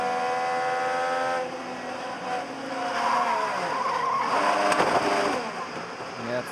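An IndyCar spins around at the Music City Grand Prix, heard on board as a high engine whine drops away into a long, harsh tire squeal and skid that swells and then settles.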